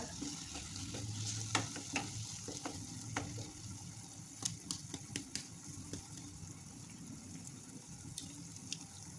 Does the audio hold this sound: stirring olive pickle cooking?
yes